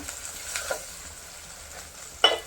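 A soft sizzle of onion paste with ginger and garlic frying in a pan, with occasional scraping stirs and a sharper clink of a spoon near the end.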